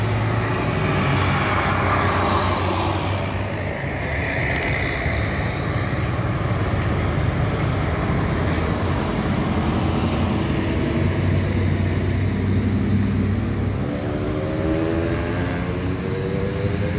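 Scania K410 sleeper buses with Adiputro bodies pass on a road at night, a loud continuous engine roar that rises and falls as the vehicles go by close to the microphone.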